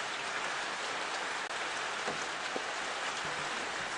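Steady rain falls throughout at a game reserve, a dense, even hiss of drops on surfaces with a few faint taps standing out and no voices.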